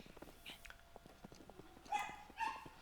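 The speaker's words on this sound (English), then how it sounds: "So my dogs are gonna go even more crazy now." Dogs barking and yipping indoors in the evening after a doorbell rang, with short sharp barks in an irregular burst over a few seconds, moderately loud, mixed with background game sounds.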